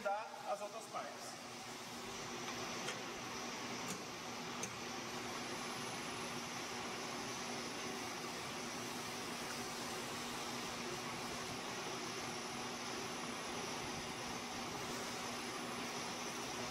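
A DVR03 dough divider running together with an MPE1000 moulder gives a steady mechanical whir and hum with a constant tone. A few knocks come early, and a voice talks faintly underneath.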